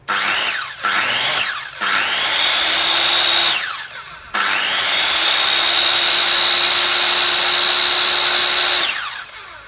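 A Japanese-market 100V, 1050W electric circular saw with a 185 mm blade is triggered in short revs twice, then held on in a longer loud run and allowed to spin down, with no cutting.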